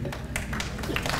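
Scattered, fairly faint clapping from a few audience members breaks out during a speech at the Rochester STEM Academy 12th grade graduation ceremony.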